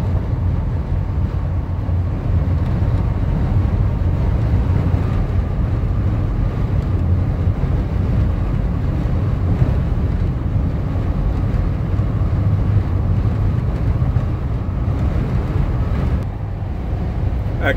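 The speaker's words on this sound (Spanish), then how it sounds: "Bastante viento, señores" Strong wind on Galveston Island roars steadily as a broad, continuous rumble for the whole stretch, like wind buffeting a microphone or vehicle while driving across the bridge.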